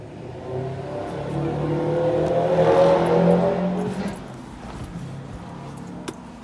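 A Skoda Octavia 1.6 diesel engine with automatic transmission idles and rises in a steady revving hum, swelling to a peak midway then settling back to a lower running drone.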